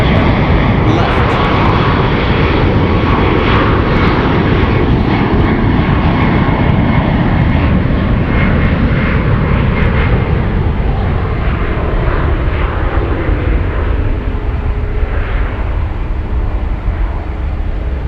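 A Mexican airline jet takes off from runway 1 left at San Francisco International Airport, its engines roaring loudly and steadily throughout, a broad continuous rumble that slowly shifts in pitch as the aircraft accelerates and climbs away.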